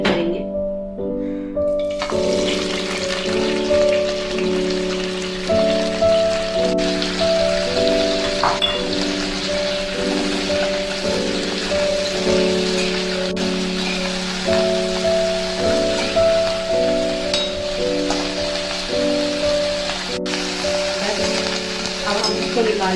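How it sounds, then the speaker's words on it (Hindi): Broccoli lightly frying in oil in a kadai, a continuous soft sizzle with scattered stirring clicks, under steady background music. "अब इसी कढ़ाई में हम अपनी ब्रोकली को भी हल्का सा फ्राई करेंगे।"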